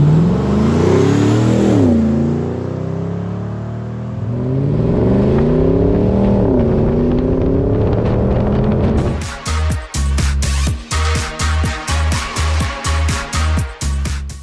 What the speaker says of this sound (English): This 110 is powered by our LS3 430 horsepower engine with 6-speed automatic transmission.